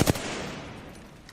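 Gunfire from the Apex Legends video game, with a short loud burst of shots at the start that gives way to a lower, sustained rumble and game noise.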